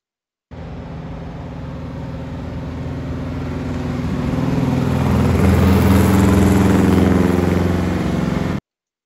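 A Gurgel XEF engine fitted with a 30 PIC carburetor runs steadily and loudly, its rough mid-pitched drone rising a little halfway through as it sputters. No voices are heard.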